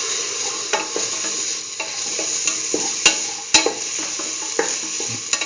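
Beetroot pieces are stirred into a sizzling curried chickpea stew, with a steady frying hiss under repeated scraping and clinking strokes of a spoon against the pot, close and fairly loud.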